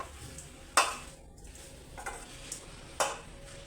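Food being stirred in a pan after salt and turmeric are added, with a few distinct scraping strokes over a faint continuous sizzle, close and fairly quiet, with no talk.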